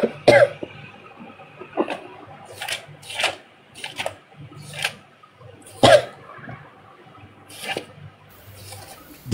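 A woman coughs repeatedly in a room, several sharp harsh bursts spaced irregularly over several seconds, close and fairly loud with quiet gaps between.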